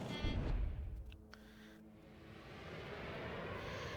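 Jet aircraft in World of Warships roar past, a loud rushing burst at the start that drops away, then a steady engine drone building back up.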